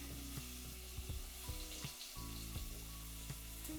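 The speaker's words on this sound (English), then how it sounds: "So we're adding the chopped onion" Chopped onion sizzles and fries steadily in browned butter in a pan, with intermittent stirring clicks over a constant crackling hiss, recorded close with no talking.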